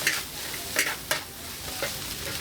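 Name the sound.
egg noodles and rice vermicelli stir-frying in a wok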